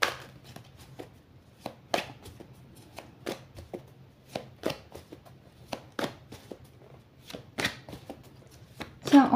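Tarot cards being shuffled for a reading, heard close up as a steady run of crisp, quick riffling slaps and taps at an irregular rhythm, faint and intimate.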